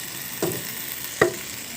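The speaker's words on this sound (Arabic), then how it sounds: "الصوص اللي باقي من التتبيله بتاعت الباذنجان خساره، هنزله هو كمان عليها" Leftover eggplant marinade sauce hits a hot pan for moussaka, giving two short, sharp sizzling bursts over a faint steady frying hiss.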